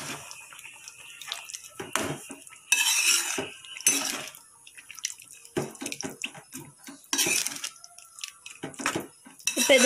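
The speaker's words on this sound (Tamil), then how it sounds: "நல்லா கிண்டி விட்டுடலாம்" A metal spoon clatters and scrapes against a pot of boiling bitter gourd kuzhambu with tamarind water, in irregular bursts, with bubbling and kitchen clinks around it, close by.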